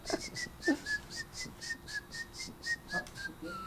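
A person whistles a tune alone, a clear, close melody of about a dozen short rising and falling notes in a steady lilting rhythm.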